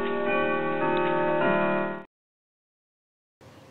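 A ticking clock in an English lesson for children, loud and close, with a steady tick-tock for about two seconds, then silence and a brief faint sound at the end.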